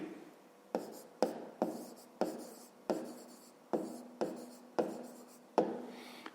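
A pen writes on paper in a series of about ten distinct scratchy strokes, each a sharp onset fading out, close and clear with no voice.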